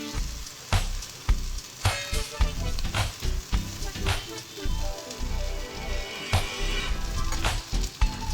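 Gongura leaves frying in oil in a pan, a steady loud sizzle with crackling pops and sharp clinks of a spoon stirring against the metal throughout.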